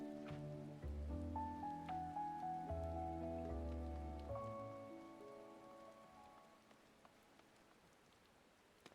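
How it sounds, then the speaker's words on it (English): Rain falling in the online role-playing game Final Fantasy XIV, a soft, steady patter under a few sustained game music tones that gradually fade out. "Now Alice is all alone here in the rain."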